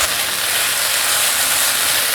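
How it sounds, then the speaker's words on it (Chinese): Tomatoes sizzle as they are stir-fried in a hot pan for a vegan noodle dish, giving a steady, close, bright hiss with no talking. "继续翻炒，把番茄炒软"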